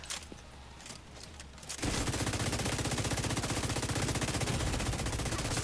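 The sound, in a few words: turret firing at enemy, from a video game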